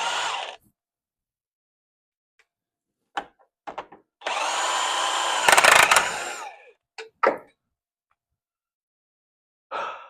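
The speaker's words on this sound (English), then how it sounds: "I'm going to tighten it pretty much as tight as this will go with the Dewalt." A DeWalt cordless power tool tightens a bolt held in a vise in short and longer bursts, a whirring drive with sharp impact rattles in the middle, separated by near silence.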